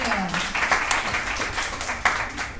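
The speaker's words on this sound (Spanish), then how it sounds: "denles un aplauso a Dr. Manuel Mirabal" Audience applause for a guest being introduced on a Spanish-language talk show, a steady wash of clapping from a crowd that carries through the whole stretch at moderate loudness.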